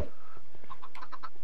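Several short clucking chicken calls from Minecraft in quick succession, close and fairly clear, with a faint hum underneath.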